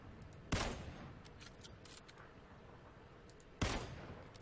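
Two loud gunshots in the battle-royale video game PUBG ring out about three seconds apart, each a sharp crack with a brief decaying tail over a low ambient game background.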